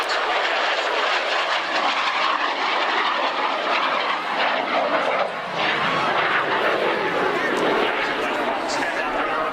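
A North American F-86 Sabre jet flying at an air show, a loud continuous roaring engine rush climbing overhead, with a commentator talking over the public address.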